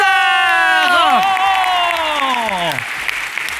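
Studio audience applause on a retro-themed Armenian entertainment show, a steady wash of clapping under loud descending sung or synth tones that slide down and fade, with the clapping continuing after the tones end.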